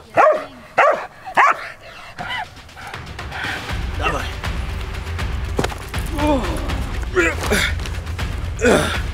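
A dog barks in several sharp, loud bursts at the start, then whimpers and pants close by amid heavy breathing, gasps and rustling movement, with a person's breath and sighs mixed in.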